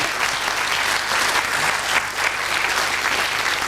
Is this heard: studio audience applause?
yes